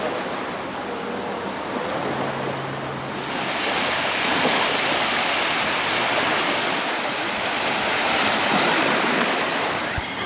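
Sea waves wash onto a beach in Cyprus at sunset, a steady roaring surf that swells louder midway, with faint voices and wind in the background.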